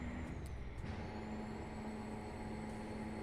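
Truck engine in American Truck Simulator labouring up a hill with freight, a steady low drone holding constant under a bright air-brake-like hiss throughout, alone with no talk.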